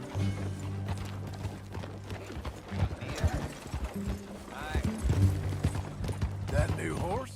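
Horse hooves clip-clop at a riding pace in the Red Dead Redemption 2 prologue, steady hoofbeats under ongoing game dialogue, with creaking tack and an occasional whinny.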